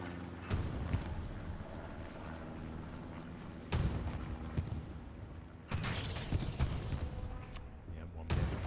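Heavy booming tank cannon shots in Hell Let Loose as a Panzer IV is struck, several loud blasts spaced a few seconds apart over continuous rumbling battle noise.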